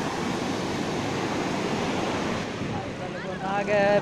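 Sea waves wash steadily onto the beach at Puri, a continuous broad roar mixed with wind buffeting the microphone, with a voice starting near the end.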